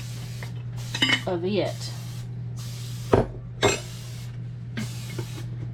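Short hissing bursts of cooking spray onto muffin liners come in several separate puffs, with a low steady hum underneath and a voice speaking briefly.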